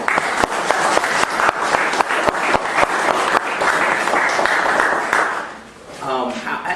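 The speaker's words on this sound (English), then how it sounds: "Let's give each other a round of applause." Audience applause at a lecture on the origin of Islam, a dense wash of clapping with sharp individual claps standing out, steady and fairly loud before fading near the end as a voice begins speaking.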